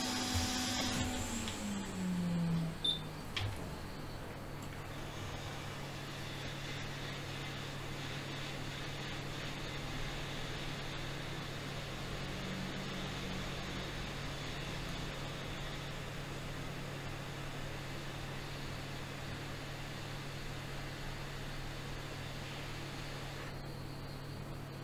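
Steady hot-air rework station blowing near the CPU during an iPhone X charging-fault board repair, a constant broadband hiss running the whole time after a brief tonal start, with no talk.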